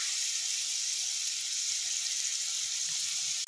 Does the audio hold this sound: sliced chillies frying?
yes